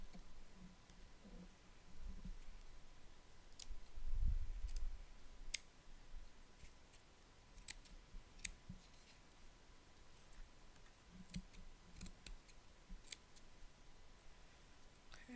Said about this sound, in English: let me trim this part a little bit so then we'll glue the rest